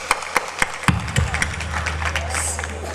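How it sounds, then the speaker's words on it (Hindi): An audience at a school annual function claps to welcome teachers, the principal and parents; scattered claps build into steady applause beneath a low sustained hum from the hall sound system. "एक बार जोरदार तालियों से उनका स्वागत करें।"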